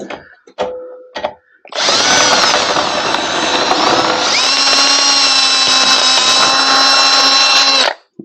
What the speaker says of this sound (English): So we're gonna drill it through.